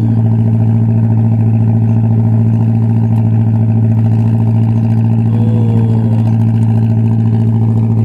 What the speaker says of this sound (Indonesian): Dari sudut kiri ada motor jukung.